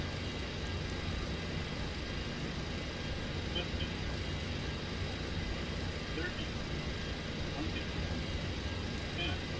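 Boeing 727 jet engines in the X-Plane 10 flight simulator drone steadily as the throttle eases back, a continuous broadband roar at moderate level without clear peaks.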